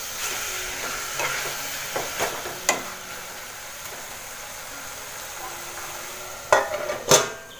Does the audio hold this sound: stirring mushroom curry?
yes